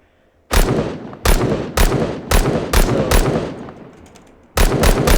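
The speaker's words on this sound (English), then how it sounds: "Okay, the MK14, or the DMR." MK14 DMR designated marksman rifle in the Minecraft Timeless and Classics gun mod firing loud, sharp shots: five evenly spaced rounds, a pause, then three more in quick succession, with no talking.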